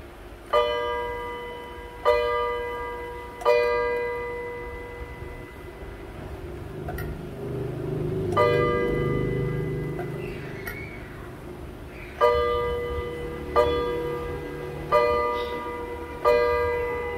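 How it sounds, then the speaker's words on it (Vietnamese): An old Japanese clock with a gold hand chimes in a series of bright, resonant strikes, each ringing out and decaying, with a pause midway before the strikes resume, heard alone. "tiếng chuông nó rất hay."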